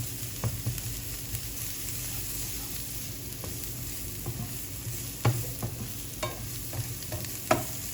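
Vietnamese peanut dipping sauce sizzles steadily in a pan while being stirred, with scattered soft scraping taps from the stirring utensil over a constant frying hiss.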